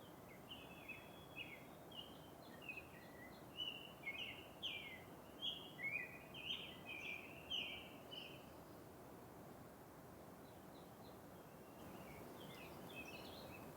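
Birds singing at a quiet, empty lake campsite: a run of bright chirping phrases in the middle, fairly distant and soft over a low steady hiss.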